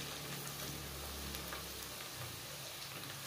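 Chopped garlic stirring and frying gently over low heat in a pan, a soft continuous sizzle with faint scraping, quiet and close with no speech.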